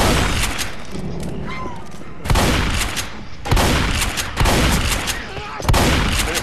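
Heavy shotgun fire from the Left 4 Dead zombie game, four loud booming blasts roughly a second apart, each with a long reverberant tail, over steady in-game background noise.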